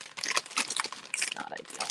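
Scissors snip through the crinkly plastic packaging of molds close up, with rustling and crunching bursts in an uneven rhythm.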